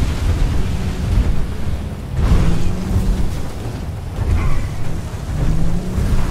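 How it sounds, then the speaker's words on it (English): Steady rain with deep rolling thunder rumbles in the video game GTA V, a loud continuous wash that swells in waves, with no talking. "And to make it harder for us, it's raining."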